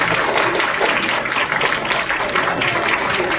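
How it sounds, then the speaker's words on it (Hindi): Audience applause at a children's cultural programme for National Girl Child Day, a dense, steady wash of many hands clapping together close by, sustained at an even level throughout. "खूब तेज ताली बजाओ जितना मजा आया।"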